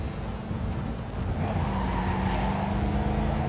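A car races and skids through a chase in Cyberpunk 2077, its engine roaring loud and steady with a long tire squeal sliding in mid-clip and no talk.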